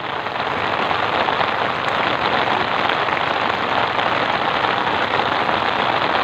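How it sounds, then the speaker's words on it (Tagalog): Steady rain hisses down on a boat at sea during traditional handline fishing, a dense, loud, continuous patter with a faint engine idling underneath. "Sige lang, ulan lang."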